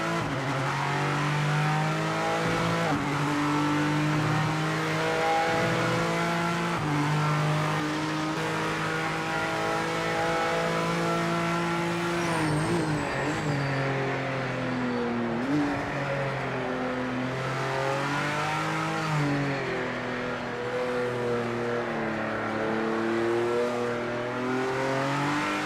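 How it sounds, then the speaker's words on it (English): A high-revving hypercar engine in the racing video game Project Motor Racing roars continuously, pitch climbing and dropping through gear shifts, loud and close, with no one speaking. "Sounds like me alright there in that hypercar."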